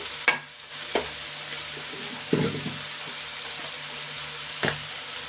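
Curry with salt stirs in a sizzling pan: a faint steady frying hiss broken by four spaced spoon knocks against the pan, fairly quiet and close.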